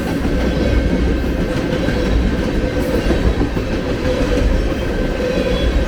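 A Canadian Pacific freight train rolls by in Red Wing, loud and close, with a steady rumble and rhythmic clickety-clack of wheels over rail joints continuing throughout, no voices.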